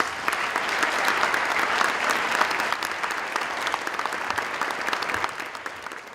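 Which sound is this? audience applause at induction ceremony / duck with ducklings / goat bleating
audience applause at induction ceremony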